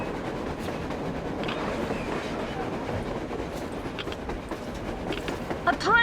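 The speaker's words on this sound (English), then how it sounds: "A train! A damn train on the surface!" A train rolling past on the surface in the video game Metro Exodus, a continuous rumbling rattle with faint clickety-clack and a few thin metallic squeals toward the end.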